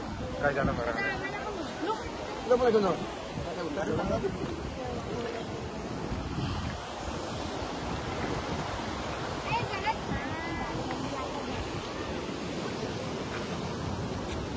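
Ocean waves rolling in at Devghali Beach, a broad continuous wash of surf mixed with wind buffeting the microphone, while people talk over it throughout.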